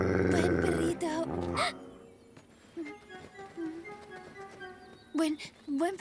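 A dog growls in a Spanish-dubbed Heidi cartoon set in the mountains, a low rumbling growl that comes and goes between bursts of animated speech.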